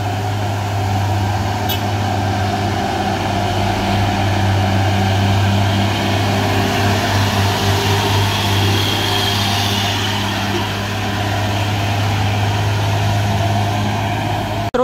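A Hino truck engine drones steadily while climbing the steep Kedabuhan hill, a constant loud low hum lasting throughout with no pauses.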